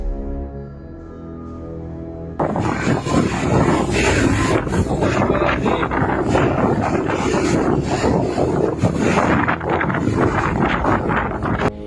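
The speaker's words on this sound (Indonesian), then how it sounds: "Angin beliung menerjang sebagian wilayah kota Cilegon, Banten." Tornado-strength wind strikes Cilegon, Banten, a dense steady roar that cuts in abruptly after a couple of seconds and stays loud and close, buffeting the microphone without letup.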